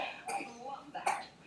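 A young child coughs twice, close by, two short rough bursts separated by a brief pause.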